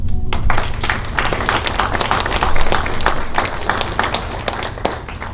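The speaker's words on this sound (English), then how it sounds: "give them a round of applause for their hard work as well" An award-ceremony audience gives a sustained round of applause for the coaches, dense clapping holding steady for several seconds before thinning slightly.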